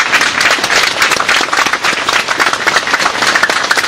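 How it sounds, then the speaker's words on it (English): An audience at the end of a community program breaks into dense, continuous applause, loud and close, with many hands clapping at once and holding steady throughout. "Yes, please clap them."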